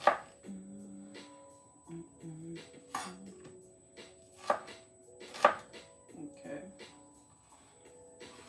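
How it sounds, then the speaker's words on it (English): Knife slicing onions thin on a cutting board in a home kitchen, giving a quiet series of sharp, irregular chops and taps with soft pauses between strokes and faint background hum. "I'm just gonna slice them thin"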